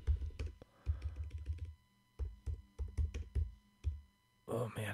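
Quick bursts of keystrokes on a computer keyboard as a message is typed, clicking in uneven clusters with short pauses, close and fairly quiet, with a brief voice at the end.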